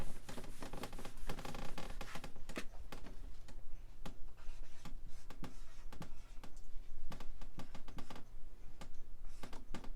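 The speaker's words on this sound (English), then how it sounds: "I'm going to erase this one so I have more room." An eraser wipes math working off a classroom board in brisk back-and-forth strokes, a rapid series of close scrubbing and rubbing swipes that continue without talk for the whole span.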